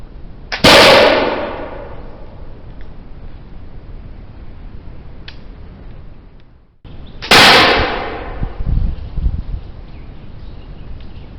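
A 1730 English musket fires twice, two loud, close booming reports about seven seconds apart, each with a long decaying tail, and a quiet metallic tap and handling noise between shots.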